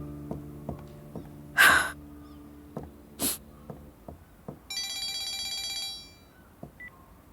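A mobile phone rings in a quiet room, with a short electronic ringtone burst near the end following faint scattered knocks and two brief noisy bursts; no one speaks.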